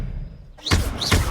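A disarming spell cast in the Hogwarts Legacy video game: a quiet lead-in, then two loud, bright whooshing bursts with low thuds, close and without talk.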